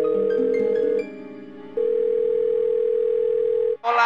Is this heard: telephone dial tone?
yes